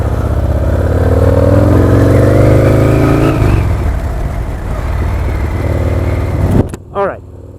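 A 2003 Harley-Davidson XR1200 Sportster motorcycle accelerates hard and close, its engine note rising through the revs for several seconds, then easing back before a brief burst of wind and handling noise at the end.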